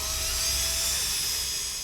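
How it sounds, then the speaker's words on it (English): A power drill spins an original car distributor up toward 3,000 RPM, giving a steady, loud high-pitched whine with no speech. "The drill is hooked to an original distributor, so it's simulating it's in a car and spinning around"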